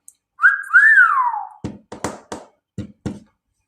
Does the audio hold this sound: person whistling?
yes